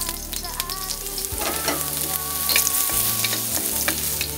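Garlic sautéing in a hot pan gives a loud, continuous sizzle with light stirring scrapes, close up and without any voices.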